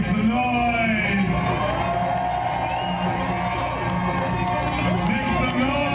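Cheering and whooping from a crowd at a SoCal Uprising gathering in Long Beach, California: sustained shouts and high whoops, loud and dense, with voices calling out over the din.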